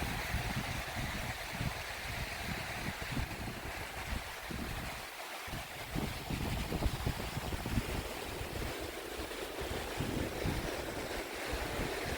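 Waves on Hua Hin beach in Thailand roar continuously with wind buffeting the microphone, a loud, broad wash of surf that fills the scene without talk.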